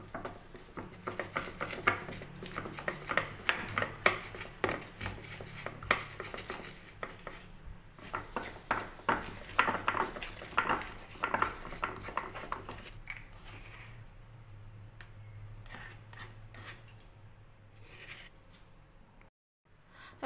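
Shallots, fine salt and ground pepper being ground by hand: a close, busy run of repeated knocks and scrapes that slows and grows quieter toward the end.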